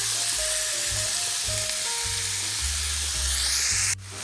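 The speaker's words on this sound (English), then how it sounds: "Now we're just going to break down our meat, and we're going to cook it until it's all brown." Ground beef sizzling loudly in a hot pan while being broken up and stirred for Mongolian noodles, a dense steady crackle with low scraping and thumping underneath that cuts off abruptly near the end.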